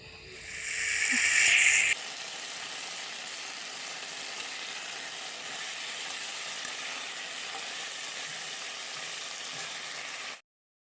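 Soybean chunks and potato fry in a pan with spice paste, a sharp loud hiss at first that settles into a steady even sizzle before cutting off abruptly.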